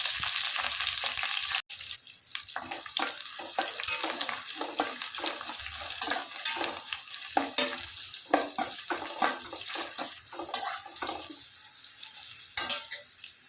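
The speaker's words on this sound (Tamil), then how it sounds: "வெங்காயம் நல்லா வதங்கிட்டுங்க" Large onions sautéing in oil with curry leaves and two green chillies, a steady sizzle under repeated spatula scrapes and taps against the pan, close and fairly loud.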